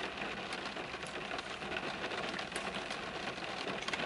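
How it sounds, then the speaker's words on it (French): Rain falling outside on a winter day, a constant dense hiss of drops with faint patters, steady and even throughout, no voices. "je fais juste voir la pluie tomber"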